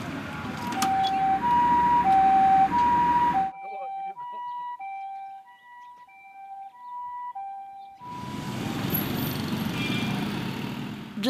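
An ambulance siren wails in a steady two-tone pattern, loud with road noise, then briefly heard in a quieter stretch before the traffic returns.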